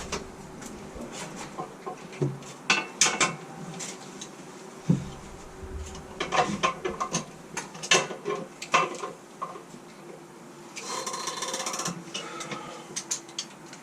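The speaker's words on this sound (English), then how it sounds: "You can hear you're kind of stressing it a little. I'm not a big fan of nylon toilet seat nuts" A wrench turns and tightens nylon nuts on a toilet seat during an install, giving a series of close, irregular ratcheting clicks and creaks with short pauses, then a steadier stretch of grinding near the end.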